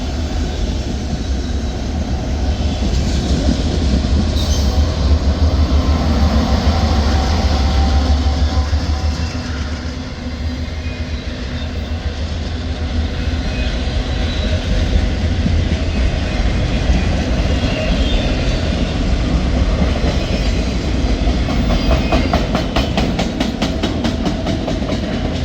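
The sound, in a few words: Norfolk Southern freight train with DPU locomotive passing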